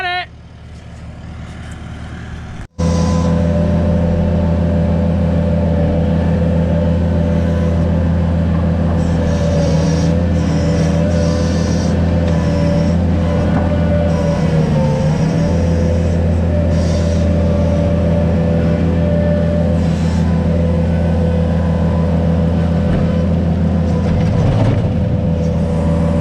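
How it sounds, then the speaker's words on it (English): A skid steer loader works at a construction site, its diesel engine a loud, close, continuous rumbling drone that holds steady with only slight shifts in pitch throughout. "skid steer operator today"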